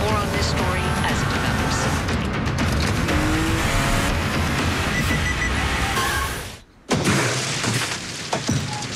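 A Toyota Camry skids to a stop in a TV ad: engine roar and loud tire squeal from a road vehicle under busy ad soundtrack and voices, cut by a brief silence before sound resumes.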